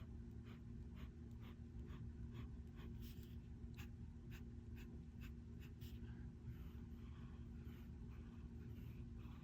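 A fountain pen nib scratching across paper in a run of short, regular strokes, faint and close over a steady low background hum, with no talking.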